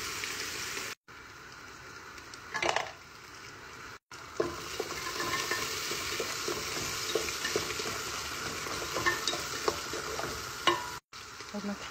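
Onions fry in a pot and are stirred, a close, continuous crackling sizzle with scraping spoon strokes and occasional louder wet bursts, interrupted by a few brief silent cuts.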